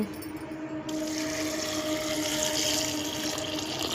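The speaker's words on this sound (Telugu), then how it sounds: "వాటర్ పోసుకొని 2-3 విజిల్స్ వచ్చే వరకు ఉడకనిద్దాం" Water pours steadily into a cooking pot holding broad beans, a continuous close splashing rush that starts after a short moment and runs evenly to the end.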